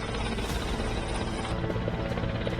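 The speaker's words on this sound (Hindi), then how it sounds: "Mi-17 V5 हेलीकॉप्टर सर्च और रेस्क्यू के अलावा सहायता कार्यों के लिए काम आने वाला एक जबरदस्त" A Mi-17 V5 search-and-rescue helicopter at an air force show produces a steady, loud broadband roar with a constant rotor and engine drone throughout.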